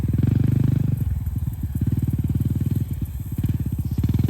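A Honda CRF250L dual sport motorcycle ridden on a trail, its single-cylinder engine thumping loud and close in a fast steady pulse, dipping briefly as the throttle eases before picking up again.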